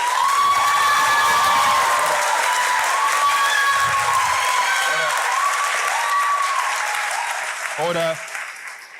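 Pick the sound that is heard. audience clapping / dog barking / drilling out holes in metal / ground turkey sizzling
audience clapping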